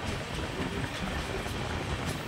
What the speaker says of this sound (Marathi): आता प्रवास चालू झालेला आहे कोकण रेल्वेचा